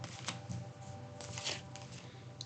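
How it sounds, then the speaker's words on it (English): Tarot cards being shuffled by hand, a steady papery riffling and slapping with a few sharper flicks, close and continuous with no talking. "I swear I shuffle these cards, but I feel like some of the same ones come out."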